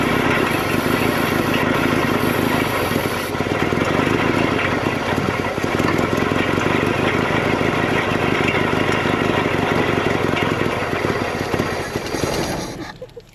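An old Toyota pickup engine fitted with a Datsun carburetor idles steadily and loudly up close, a continuous rough rumble that fades out at the end.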